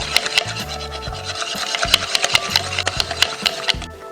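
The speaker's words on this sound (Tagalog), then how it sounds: "Dahan-dahan din po nating ibubuhos sabay paghahalo para talagang matutunaw siya." Kutsinta batter stirred by hand while liquid is slowly poured in: a close, steady run of rhythmic scraping and swishing strokes against the bowl, with no voices.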